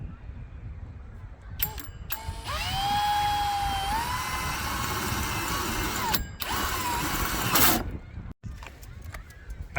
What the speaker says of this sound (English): I haven't got the right size drill bit, but I'm going to go in with that one